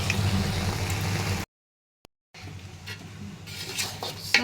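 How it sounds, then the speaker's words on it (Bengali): Beef being stirred and fried in a pan with turmeric, cumin and garam masala: steady close sizzling with spoon scrapes, broken by a short silent gap partway through, then resuming. "এখন এটাকে সুন্দরভাবে নেড়ে চেড়ে দিয়ে কষাবো।"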